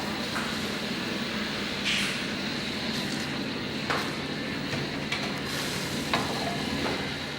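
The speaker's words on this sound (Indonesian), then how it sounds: "Kemudian aduk-aduk terus" Fermented glutinous rice paste (tape ketan) is stirred in a wok over low heat while making madu mongso, giving a continuous soft sizzle and scraping with occasional sharper clinks, close and with no voices.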